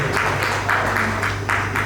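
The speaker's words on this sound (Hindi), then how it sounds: "एक बार जोरदार तालियों से स्वागत करें।" A crowd applauding steadily, a dense wash of claps with a low hum underneath, moderately loud and continuous throughout.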